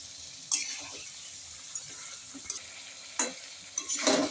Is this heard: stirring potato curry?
yes